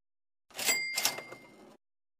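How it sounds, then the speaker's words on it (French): An old cash register sound effect on a French-language podcast: a single bright ringing chime over a short mechanical burst, lasting about a second, heard alone and fairly close. "vous venez de l'entendre, là, la caisse enregistreuse a été ressortie littéralement de la poussière"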